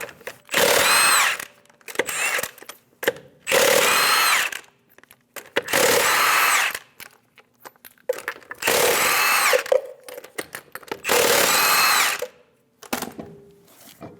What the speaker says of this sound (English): Using a 22mm socket, remove the 5 lug nuts.